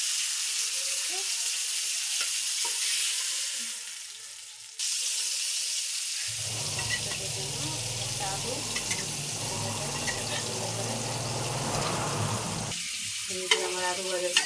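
Potatoes frying in oil give a loud crackling sizzle that starts partway through and continues to the end, preceded by quieter kitchen sounds and running water.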